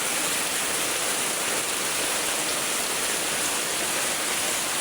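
Strong floodwater rushing under typhoon rain, a loud, dense and unbroken roar of water that holds steady throughout with no voices.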